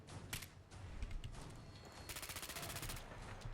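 Burst of gunfire from a G3 battle rifle in the video game Fallout 4, with a few scattered shots early on and then a rapid, evenly spaced volley of loud cracks near the end.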